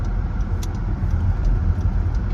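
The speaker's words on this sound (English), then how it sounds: "Driving to Kerman." Car driving on the road at early morning, a steady low rumble of engine and tire noise with faint rattles, close and continuous, no talking.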